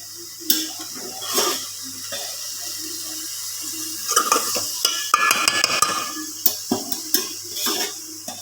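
Ghee added to a cooking pot and stirred, giving scraping and clinking stirring noises with a light sizzle, scattered sharp knocks, and a busier stretch of clatter in the middle.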